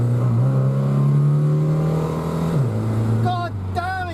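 A Ford Pinto accelerates hard, its engine note climbing and holding steady, then dropping as the car shifts. A voice talks over the engine near the end.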